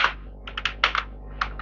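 Close, crisp clatter of keys on a computer keyboard as a question is typed into ChatGPT, a quick burst, a few scattered presses and one more pair at the end.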